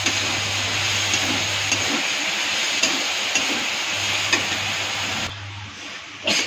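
Potatoes and spices fry in a pan with a steady broadband sizzle, broken by occasional scrapes of stirring and a low hum that cuts in and out; the frying is close and continuous, with no talk.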